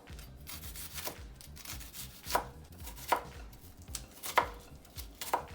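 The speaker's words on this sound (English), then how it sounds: "the first thing we're gonna do is we are gonna dice our onions" A knife dices onions on a cutting board, steady close chopping with a few sharper knocks standing out against a rubbing, scraping background.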